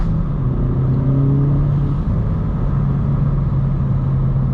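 A Hyundai i30N hatchback driven in Sport Plus mode gives off a loud, close engine drone with a steady low hum that dips briefly and then settles at an even pitch while cruising.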